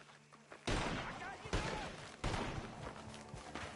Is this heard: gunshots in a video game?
yes